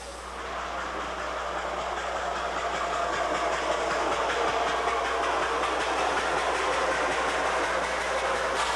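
Steam locomotive No. 1321, 83 years old, on a 30-inch narrow gauge sugar railway in Cuba, coming off a wye; a steady broadband rumble with clickety-clack rail noise holds at even strength throughout, with no talk.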